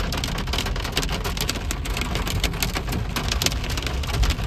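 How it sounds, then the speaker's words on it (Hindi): Dense, steady hail pelting a car bonnet and the road during a hailstorm in Mukteshwar, a constant loud rattling patter with no talk. "फुल ओले ओले पड़ रहे हैं भाई"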